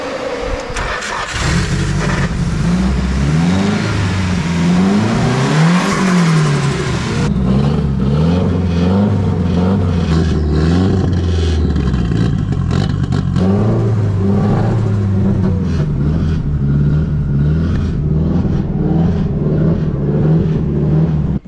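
Nissan S13 project car engine cranking and catching, then running rough with an uneven, lumpy idle and occasional blips of revs, loud and close with no talk throughout.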